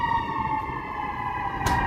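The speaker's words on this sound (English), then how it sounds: "There's some sirens going by here." Emergency vehicle siren passing along the Chicago Riverwalk, a steady loud wailing tone holding for nearly two seconds over city background noise, with a brief sharper burst near the end.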